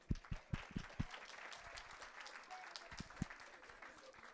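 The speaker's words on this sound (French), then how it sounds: "Allez, ouais, on l'applaudit." A small group at an Easter gathering claps for Anaël: a burst of several distinct, uneven claps at the start, a softer patter with faint voices, then a few more sharp claps.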